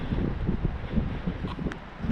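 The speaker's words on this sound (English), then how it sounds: "It's still quite windy." Gusty wind blowing through trees in a garden after a storm, a continuous low rumbling roar with rustling buffeting the microphone, no voices.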